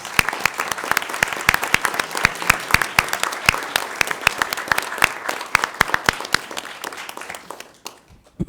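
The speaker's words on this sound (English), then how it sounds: "let's all give them a round of applause, please." Applause at a school board of education meeting, a modest room of individual hands clapping with distinct sharp claps, steady for several seconds before dying away.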